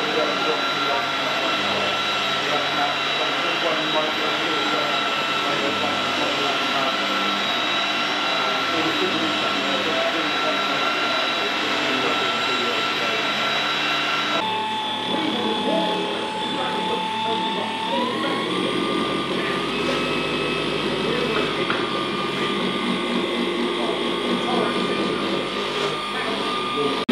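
A Flex rotary polisher works car paint with a steady, loud mechanical whine that shifts pitch partway through as the speed changes, with talking over it.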